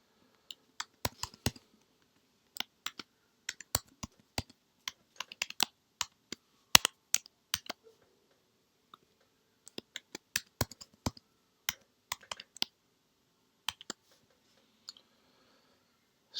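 Keyboard keys tapped in quick bursts while a new password is typed at a NanoKVM login screen, irregular clusters of crisp, close clicks separated by short pauses, no voices.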